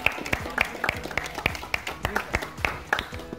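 A group claps for cyclists after a 50 km morning ride, producing a steady run of sharp, fairly close claps in a loose rhythm, with faint voices in the background.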